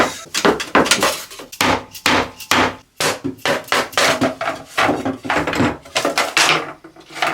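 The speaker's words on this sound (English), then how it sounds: "a big hammer, that's what you need" A heavy hammer pounds repeatedly on wood in quick, forceful bursts, loud and close, with brief pauses between strikes.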